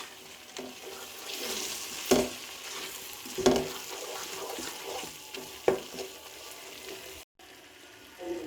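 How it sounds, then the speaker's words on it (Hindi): Lemon juice and kasuri methi being mixed into a mutton biryani marinade, with wet squelching stirs and a few sharper scrapes against the bowl, close and quiet. "इन तमाम अज़्ज़ा को हम अच्छे से मिक्स कर लेंगे।"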